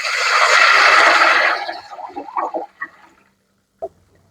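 Tomato and tamarind water poured into a pot for rasam, a loud continuous liquid gush for about a second and a half that tapers into splashes, a few drips and a final clink.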